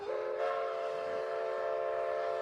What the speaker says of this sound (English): Let me turn the train volume down.